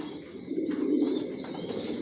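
Low, soft cooing of racing pigeons of the Janssen line, a rolling throaty murmur that swells in the middle, close by.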